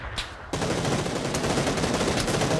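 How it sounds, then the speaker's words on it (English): Dense, continuous gunfire in a video game erupts after a brief quieter lead-in, loud and sustained with rapid overlapping shots. "Oh, I'm getting shot at."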